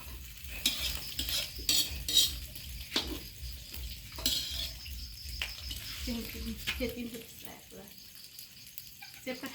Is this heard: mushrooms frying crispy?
yes